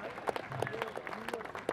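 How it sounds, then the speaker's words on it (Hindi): A crowd applauds at a football prize distribution after an all-India tournament final in Rourkela, scattered clapping over a noisy outdoor background with speech mixed in. "please please give a clap a high handed clap"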